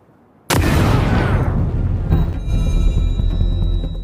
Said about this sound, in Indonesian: handphone tersebut meledak